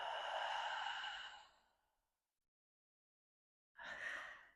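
A long, slow, deep exhale from a person during a breathing exercise, close and breathy, fading into silence before another breath starts near the end.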